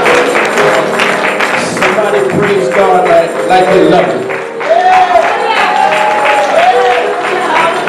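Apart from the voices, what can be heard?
congregation hand clapping in church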